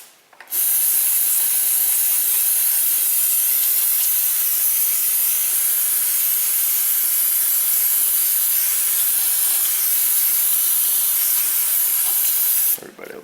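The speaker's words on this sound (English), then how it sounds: "Lots of brake clean in this video." Brake cleaner sprays in one continuous loud hiss onto the clutch input shaft of a rear-wheel-drive car, running steadily for about twelve seconds before cutting off abruptly.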